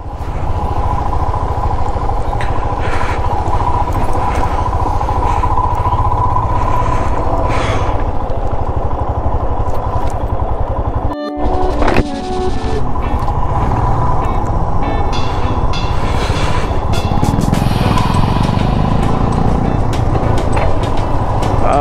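Motorbike riding along a mountain road toward Manikaran Sahib in India, the engine droning steadily and loudly throughout with rushing wind and road clatter, a brief dip near the middle, no talking.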